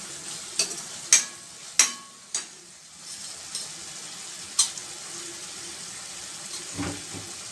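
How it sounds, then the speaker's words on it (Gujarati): Tomatoes and onions being mashed and cooked down in a pan for pav bhaji: a soft simmering sizzle under several sharp scraping knocks of a masher or spoon against the pan, spaced irregularly. "ટામેટા અને ડુંગળીને આવી રીતે થોડા મેસ કરતાં કરતાં ચડવી લેવાના છે"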